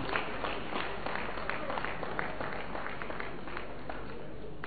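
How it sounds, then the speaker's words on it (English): Steady applause from an audience at an annual lecture, a continuous wash of many hands clapping at moderate level with a murmur of voices underneath, lasting throughout. "Chief Philip Asiodu, please give him a big round of applause, please."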